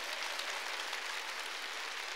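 Church congregation clapping together during a sermon, a steady dense wash of applause at moderate distance with no break across the whole span.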